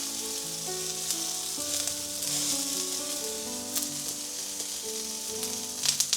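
Onions sizzle steadily in a hot frying pan, a constant crackling hiss with occasional clinks, while faint background music plays underneath.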